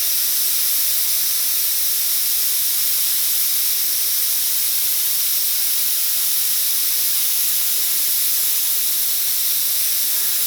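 An airbrush sprays a light mist of yellow ochre paint, giving a steady, loud, unbroken hiss that runs the whole time with no talking.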